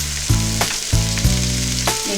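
Pork sizzles steadily in a frying pan for Filipino menudo, a constant hissing crackle close by, with a few clinks of stirring and a low hum underneath.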